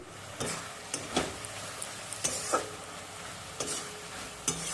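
A raw papaya naru mixture with cardamom is stirred in a pan over medium heat, giving soft scraping strokes every second or so over a faint, steady sizzle.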